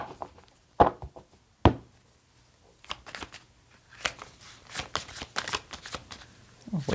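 A tarot deck is shuffled, beginning with a couple of sharp slaps of cards, then a rapid run of crisp riffling flutters in quick bursts, close and fairly soft, with no talking.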